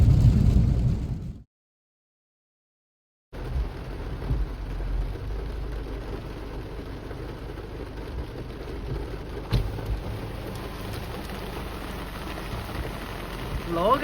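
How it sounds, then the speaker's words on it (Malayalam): Heavy rain pours steadily outside a house in Kerala, a dense, loud, continuous wash of drops. It cuts out briefly to silence, then resumes just as strongly. "നല്ല മഴയാ. അപ്പൊ നല്ല അടിപൊളി മഴയാ."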